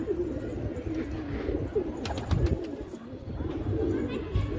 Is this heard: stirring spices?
no